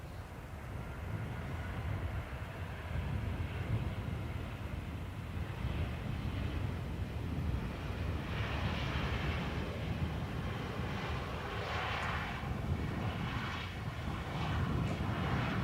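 A departing airliner at Dublin Airport gives a broad, steady jet roar that holds loud through the whole stretch, a constant wash of engine rumble and hiss with no voices over it.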